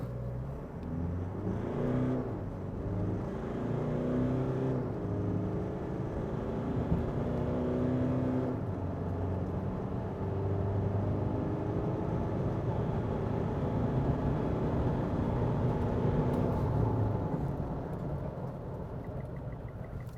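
A 2023 Mitsubishi Triton (L200) pickup in two-wheel drive accelerates hard from a standstill. The engine note climbs steadily through several gear changes, sounding moderately loud from inside the cab, with no talking.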